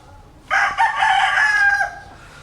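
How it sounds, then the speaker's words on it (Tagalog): A rooster crows loudly and close for about a second and a half among farm chickens, the call rising sharply then fading, with faint background rustle before and after. "Ito yung mga iba naming manok rito."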